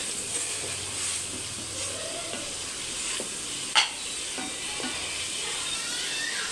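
Masala sizzles and fries steadily in ghee in a pan while kaleji is being cooked, a constant close crackle with occasional stirring clinks and no talking.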